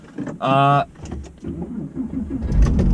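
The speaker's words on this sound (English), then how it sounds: "There it is, the 997 starting up." A Porsche 997 starts up: a brief whirring crank gives way to a low engine rumble that builds toward the end. Someone talks over it.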